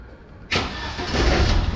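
A campervan's engine turns over and catches after a short quiet moment, then settles into a steady, close idle.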